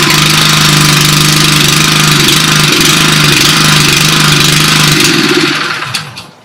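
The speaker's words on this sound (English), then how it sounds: "we push the throttle to the start position, we depress the dead man's handle and pull the starter cord" A Honda engine on a Westermann WR870 moss brush runs loud and close after a pull-cord start, holding a steady, buzzy, lawn-mower-like drone for about five seconds before winding down and cutting off.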